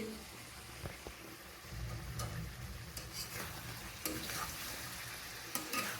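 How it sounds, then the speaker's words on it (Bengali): Mutton pieces sautéed and stirred in a pan, a low, fairly quiet frying sizzle with repeated clacks and scrapes of a spoon against the pan, and faint voices in the background. "আর এই যে দেখো এখন আমি মাংস কষাচ্ছি।"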